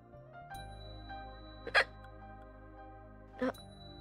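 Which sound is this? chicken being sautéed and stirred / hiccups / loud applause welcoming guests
hiccups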